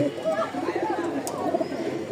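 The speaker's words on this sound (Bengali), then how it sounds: "ককা ডাকতেছে কি ডাক রে ভাই" A male Bashiraj pigeon coos in repeated low, throaty phrases, close and moderately loud, while someone talks over much of it.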